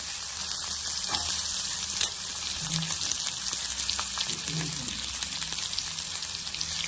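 Chana dal and curry leaves frying in a mustard-seed and chili tempering, a steady soft sizzle and crackle from the pan with a few brief pops, close by and fairly quiet, no talking.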